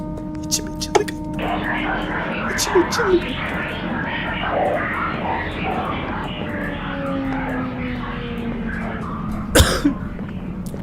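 Coughing breaks out during a horror game, with a few short bursts under a continuous low hum and a sharp burst near the end.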